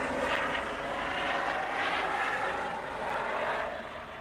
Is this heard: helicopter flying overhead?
yes